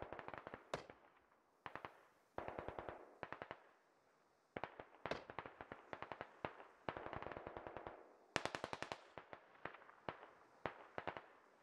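Distant automatic gunfire in the shooter game SquadOps, with repeated bursts of rapid cracking shots separated by short gaps, all from far off with no voices over it.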